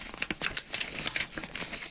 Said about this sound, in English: that's the sound of the paper